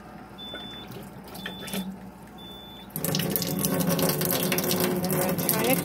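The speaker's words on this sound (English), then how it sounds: "In the lower line comes the acid water and the upper line comes out the alkaline water" Acidic water runs from the outlet of a water ionizer, at first a thin steady trickle, then a louder, fuller gushing flow once the stream gets stronger partway through.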